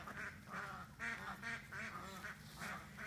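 Ducks at a backyard duck pool quack repeatedly in a steady rhythm, about six nasal calls in a row at moderate distance, with no talk over them.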